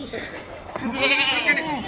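Kathiawari dairy goats, a breed kept for milk, bleat in a long wavering call that swells in the latter half, heard close over faint background noise at a farm livestock sale.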